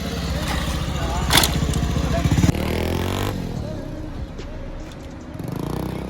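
A motorcycle engine revs and roars during a wheelie stunt, loud and close with rising throttle bursts, then settling into a lower rumble as it moves off, with voices talking over it.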